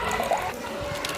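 Plain water is poured into a glass for a salt-water floating potato experiment, a short, close trickle and splash lasting about a second with no talking.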